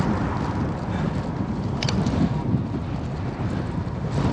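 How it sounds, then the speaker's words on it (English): Strong wind buffets the microphone outdoors during a bike ride, a steady loud rumble with gusty low roar and no talking. "It's very windy right now."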